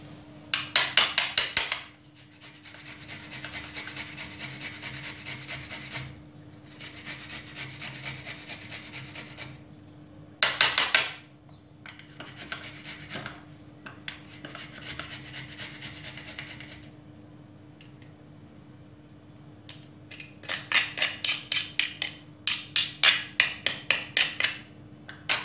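Garlic is grated by hand on a rasping grater for fried fish seasoning, in bursts of brisk, close rhythmic scraping separated by pauses, with a faint steady hum underneath and no talk.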